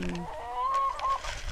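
Chickens on a Philippine family farm let out a short, moderately close run of clucks and a drawn-out call, with soft farmyard ambience around them and no voices.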